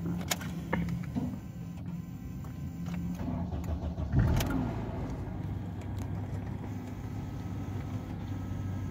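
A Honda car engine, with a newly replaced knock sensor, cranks over and catches, then settles into a steady idle rumble, preceded by clicks and whirring; no talking.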